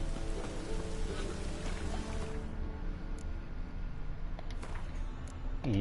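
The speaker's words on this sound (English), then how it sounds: "Rain again. Damn mages." Rain pattering steadily in The Witcher 3, a soft constant hiss of drops that stays even and low throughout, with no talk over it.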